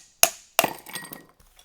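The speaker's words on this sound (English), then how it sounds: "Just gonna put some ice in this glass." Ice cubes drop into a glass for a Filipino cocktail, with two sharp close clinks followed by softer rattling and settling.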